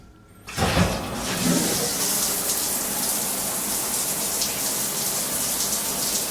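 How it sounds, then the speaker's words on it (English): Water rushes on suddenly from a Delta shower faucet after a brief quiet start, then pours steadily in a broad, hissing spray that stays loud and continuous to the end. "let's turn on the shower faucet and see what happens."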